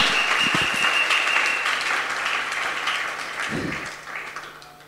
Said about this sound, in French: Est-ce qu'on peut encore acclamer très, très, très, très fort la parole de Dieu?